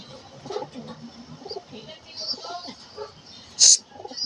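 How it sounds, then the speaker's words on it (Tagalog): A pet pigeon coos softly at home after a long flight, low murmuring calls under a person talking, with a brief sharper sound near the end. "Grabe tong ibon na to, buti nakauwi pa."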